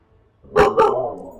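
A puppy lets out two quick, sharp barks close by, the second following right after the first, in an otherwise quiet room.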